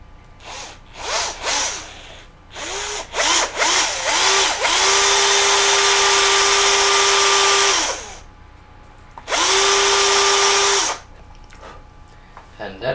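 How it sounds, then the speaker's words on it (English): A power drill whirs in a sustained high-pitched run, then stops and starts again for a second burst, with brief handling clatter and short trigger taps before. "And then I will drill a hole here."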